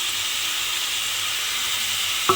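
Pieces of pointed gourd and potato fry in a hot pan with a steady, close sizzling hiss that runs throughout, ending in a brief soft knock.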